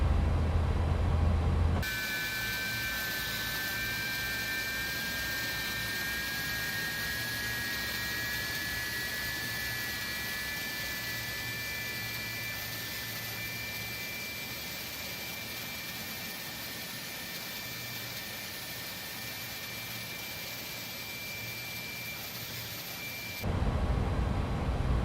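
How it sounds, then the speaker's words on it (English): Jet engine of an Airbus A300 BelugaST spooling up in the X-Plane 11 flight simulator, a steady loud roar with a high whine held for about twenty seconds, no talking. "All right, we have a good start on engine number 2."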